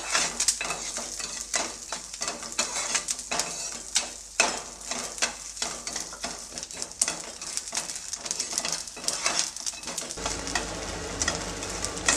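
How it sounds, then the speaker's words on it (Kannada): Sago pearls being dry-roasted over medium flame in a pan for a sweet pudding, with a steady crackling sizzle and repeated scraping stir strokes throughout, close and fairly loud, no talking. "ಈ ಸಾಬು ಅಕ್ಕಿನ ಮೀಡಿಯಮ್ ಫ್ಲೇಮಲ್ಲಿ ಸ್ವಲ್ಪ ಹಳ್ಳ ಏಳೋವರೆಗೂ ಹುರ್ಕೋಬೇಕು"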